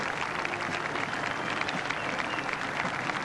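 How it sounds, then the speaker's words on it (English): A crowd at a Vietnam veterans' parade in Sydney in 1987 claps and cheers in a dense, steady wash of applause heard from within the gathering. "we can hear the swell of noise from the crowd"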